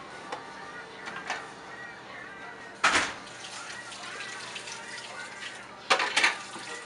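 Tap water running in short bursts while lab equipment for pH testing is rinsed, quiet splashing with two louder gushes, over a faint background hum.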